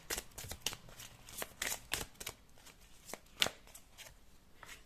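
Tarot cards being shuffled by hand at close range, a steady run of quick papery riffles and snaps with no talking over them.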